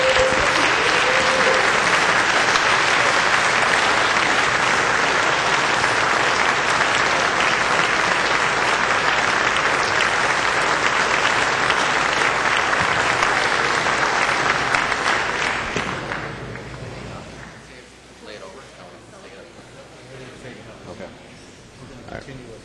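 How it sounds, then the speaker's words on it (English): Members of a state House stand and applaud on the chamber floor in honor of a congressman, loud sustained clapping for about fifteen seconds that fades into quiet room murmur. "please stand and celebrate Congressman's life with me in a round of applause"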